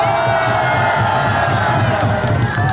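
A crowd at a Korean youth forum event applauds and cheers a speaker, a dense, steady wash of clapping with whoops and shouts mixed in, loud throughout.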